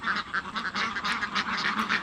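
A flock of laying ducks on a duck farm of about 200 birds quacks and honks in a dense, continuous chorus, close and loud, with no talking.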